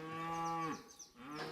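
A Blonde d'Aquitaine cow on a farm gives a loud, close moo with a falling pitch, then a brief break and the start of a second call.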